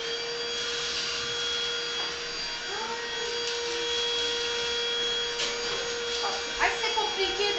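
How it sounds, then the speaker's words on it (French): Household vacuum cleaner sucking up seeds scattered across the floor, a steady close drone running throughout with occasional rattles and bumps as it works into the corners. "Donc, pour bien nettoyer, un coup d'aspi."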